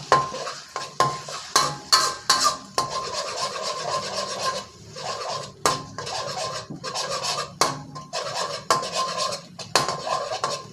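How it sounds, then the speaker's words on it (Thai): A metal spatula scrapes and clatters rhythmically against a wok as eggs are stirred in hot oil, with continuous scraping and rubbing, close and fairly loud. "พอน้ำมันร้อนก็ให้เราใส่ไข่ลงไปเลยครับ แล้วก็ให้เราใช้ตะหลิวคนแบบนี้ครับ"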